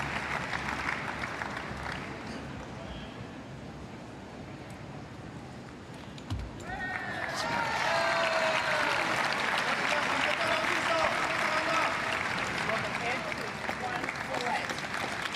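Steady applause and crowd noise fill a Paralympic boccia gold medal match, rising and swelling louder through the second half of the passage, with a commentator's voice running over it.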